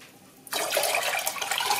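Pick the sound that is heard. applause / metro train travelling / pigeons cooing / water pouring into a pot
water pouring into a pot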